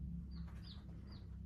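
Eight day-old chicks give three faint, thin high peeps, evenly spaced, over a low background hum.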